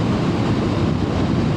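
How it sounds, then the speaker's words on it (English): Steady, loud north wind at an estimated 10 to 15 rushes and buffets the microphone in a continuous low roar, with no voices. "It's kind of windy today."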